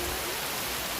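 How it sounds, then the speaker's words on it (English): Heavy rain falls steadily by a river where lobster is being grilled outdoors, a dense, even hiss of downpour close by with no voices. "Rain a fall hard"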